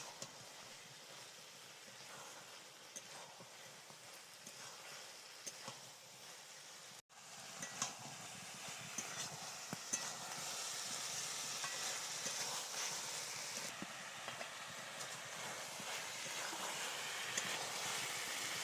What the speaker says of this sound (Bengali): আরও একটু কষিয়ে নেব।